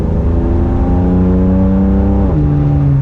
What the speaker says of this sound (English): Let you hear that exhaust note.